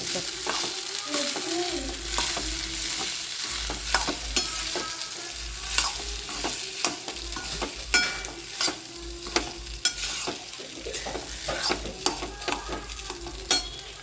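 Ingredients frying in a pan with Maggi masala and salt, close continuous sizzling broken by repeated scraping stirs of a spatula at an uneven rhythm, loud and alone.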